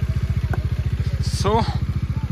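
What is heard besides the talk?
motorcycles arriving at riverside campsite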